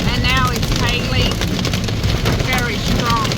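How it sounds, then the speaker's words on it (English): Hail pounding steadily on a car roof during a road trip from Adelaide to the Gold Coast, a dense, loud drumming roar with no let-up, and voices faintly speaking over it. "And now it's hailing."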